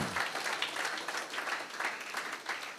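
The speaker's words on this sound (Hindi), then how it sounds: "परमेश्वर को हम धन्यवाद दें, तालियां बजाकर उसके नाम को ऊंचा करें।" Church congregation clapping in praise during a youth seminar service, a dense, continuous patter of many hands with a slight rhythmic pulse, fairly close and lively.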